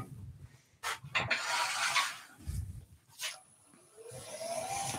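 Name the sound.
sanding an Ecopoxy twig bowl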